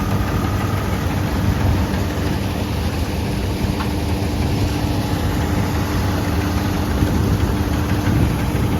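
A Swaraj 855 turbo tractor engine, recently repaired, runs at a steady, loud, deep idle close by, with a constant rumbling drone and no talking.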